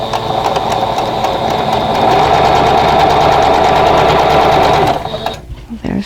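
A sewing machine runs steadily, sewing the short edge of fabric rectangles for a flower pot quilt block. The loud, rapid mechanical chatter stops abruptly near the end, leaving a quiet, faint rustle.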